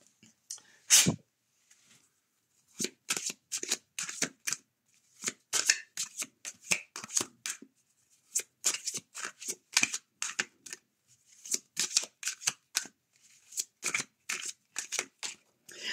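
A deck of cards is riffle-shuffled repeatedly at close range, with quick bursts of fluttering snaps separated by short pauses, and a single sharp sound near the start.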